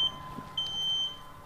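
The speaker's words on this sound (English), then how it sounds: "that beep means that it's initialized and it's ready to go" Two short electronic beeps from an UP! Mini 2 3D printer finishing initialization, a quick chirp followed by a longer steady tone, clear over a faint mechanical hum.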